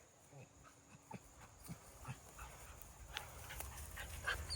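Dogs from a rabbit hunting pack whine and whimper inside a kennel, with soft yelps and panting scattered over a quiet background hiss.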